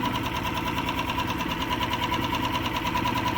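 A Mercury 2.5 hp outboard motor idling as low as it goes, a steady, fairly quiet rhythmic chugging with a light mechanical knock, close by and alone.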